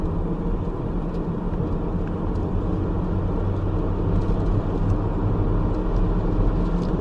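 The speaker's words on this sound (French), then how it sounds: "Je mets pied au plancher. Et je prends de la vitesse facilement en 6ème." A reprogrammed naturally aspirated car engine pulling at full throttle in sixth gear, a steady low droning rumble with road noise, constant and loud inside the cabin, no speech.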